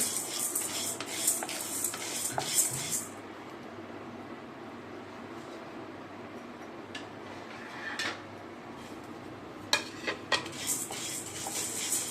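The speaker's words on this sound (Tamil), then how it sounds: "ஒரு பிடி துவரம்பருப்பும், பொன்னிறமாக வறுத்து எடுத்துக்கணும்." A handful of toor dal being dry-roasted in a pan until golden, with a metal spoon scraping and clinking against the pan in bursts between quieter stretches of soft rattling, close and fairly loud.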